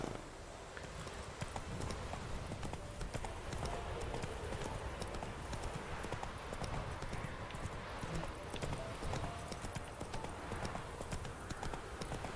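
Horse hooves clip-clopping steadily in The Witcher 3: Wild Hunt, a continuous rhythmic gait of a ridden horse at moderate volume, with game ambience and brief speech.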